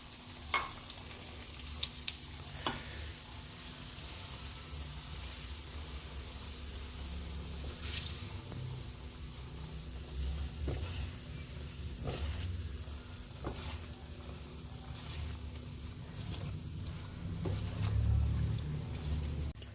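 Semolina (suji) with cardamom being roasted in a pan for halwa, a faint, steady dry sizzle with occasional scraping and stirring clicks from a spoon.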